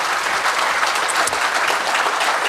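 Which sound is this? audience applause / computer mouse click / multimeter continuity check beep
audience applause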